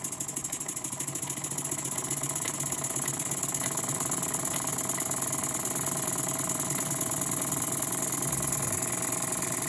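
Restored 1970s Jensen No. 20G live steam engine running with the throttle opened, a steady mechanical chuffing and whirring hum that holds close and even throughout, with faint knocking beneath and no talk.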